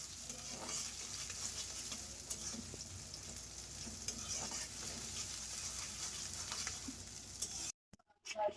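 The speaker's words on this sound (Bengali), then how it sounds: "এখানে আমি পেঁয়াজ কাঁচামরিচটা হালকা তেলে ভেজে নিব" Onion and green chilli fry in a little oil with a steady close sizzle and soft stirring scrapes, then a brief cut to near silence at the end.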